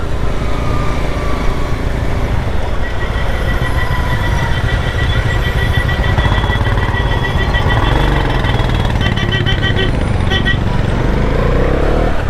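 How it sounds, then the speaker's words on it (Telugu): Heavy road traffic rumbles steadily around a motorcycle on a highway road trip from Hyderabad toward Kerala, with loud, continuous engine drone, passing vehicles and occasional horn tones, and a voice speaking over it. "బాయ్స్ ట్రాఫిక్ చూడండి ఎట్లుందో, డేంజర్ ఉంది."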